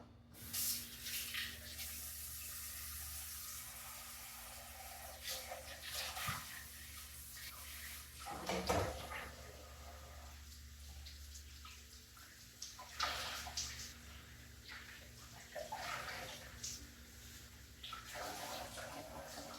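Utensils rinsed under running tap water at a kitchen sink after making homemade mozzarella from whole milk, a steady broad wash of flowing water with occasional clinks and splashes, close and moderately loud throughout.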